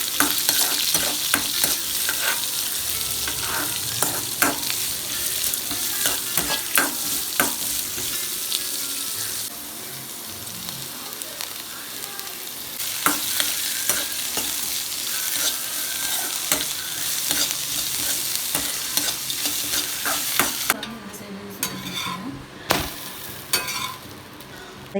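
Mint and a tempering sizzle and fry in a pan for mint chutney, with steady crackling broken by repeated stirring scrapes throughout, close and moderately loud.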